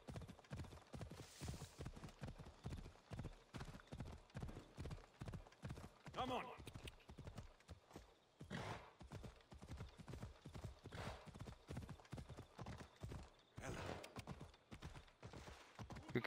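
Rapid, rhythmic hoofbeats of a horse in Assassin's Creed Odyssey clatter continuously at a trotting pace, close and steady throughout, with a brief whinny-like call partway through.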